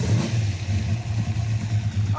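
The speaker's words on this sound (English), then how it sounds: "I guess I need to fire up the exhaust so that you can hear it" A car engine rumbles with a low, throaty exhaust note, fluctuating slightly as if lightly revved, close by and continuous.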